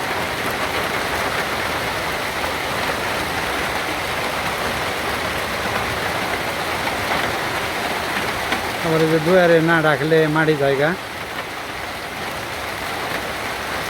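Heavy rain pours continuously in a loud, steady wash of noise over a muddy yard, with a person speaking over it for a couple of seconds partway through.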